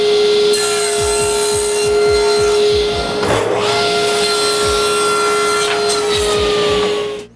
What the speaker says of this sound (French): Je la surface, puis je la coupe en triangle.